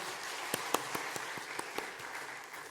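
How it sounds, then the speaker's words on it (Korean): Scattered handclaps from a church congregation welcoming guests at a Sabbath service: a dozen or so distinct, fairly faint claps spaced unevenly over a quiet room. "환영의 박수를 좀 보내주시겠습니까?"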